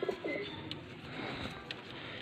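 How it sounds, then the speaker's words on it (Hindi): Pigeons from Faisalabad cooing nearby, soft throaty coos at the start, then quieter coos and faint flutters over a low background hum, with no talking. "ये फैसलाबाद के कबूतर हैं"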